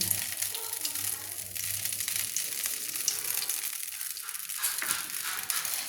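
Mustard oil heats in a wok for a spicy Kolkata-style green bean and potato dish, giving a steady, continuous sizzle and crackle that stays even and close throughout with no talking.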